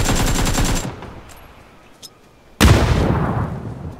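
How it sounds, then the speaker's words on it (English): Bursts of AK rifle fire in the PUBG battle royale game: a rapid automatic volley, a pause with faint distant shots, then another loud close burst. "Oh, he just AK'd."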